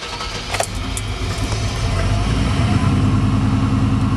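A 383 stroker V8 in a car runs rough and hesitates, its low engine drone rising steadily with a couple of faint clicks early on and no talking.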